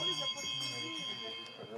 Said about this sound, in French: Personne n'écoute la cloche.